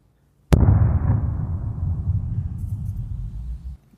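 A sudden sharp blast follows the launch of a weapon, then a long rolling rumble that slowly fades over about three seconds before cutting off, loud and heard alone.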